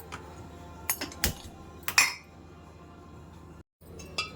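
A metal kadai is set down on a kitchen stove with a few sharp clinks and clanks, the loudest knock near the middle. The clatter comes close, then goes quiet, and one light tap follows at the end.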